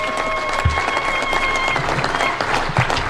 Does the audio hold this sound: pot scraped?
no